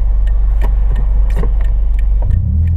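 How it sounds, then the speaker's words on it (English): A 2003 Toyota MR2 Spyder engine idles loudly and close by with a steady low rumble, a few light metallic clinks and jingles over it, and a slight change in the engine note near the end. "engine sounds all right."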